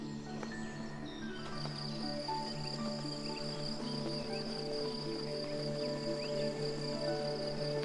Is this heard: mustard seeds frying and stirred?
no